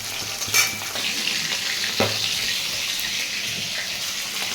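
Fish, including a fish head, frying in hot oil in a pan. A close, loud, continuous sizzle runs throughout, broken by a couple of sharp utensil clinks, with no talking.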